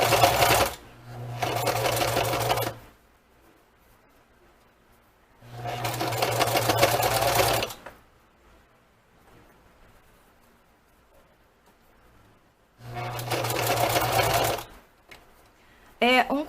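A sewing machine stitches a dish towel in three loud, rapid whirring bursts of a couple of seconds each, separated by quiet pauses with faint handling sounds.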